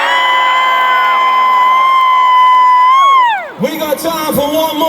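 Arena crowd at a metal concert at London's O2 Arena bursts into loud screaming and cheering after a long sustained electronic tone bends downward and cuts off.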